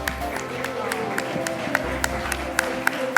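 A large audience at an evening awards ceremony for women making a difference claps steadily, a dense continuous patter of hands with sharper individual claps standing out, moderately loud and sustained throughout.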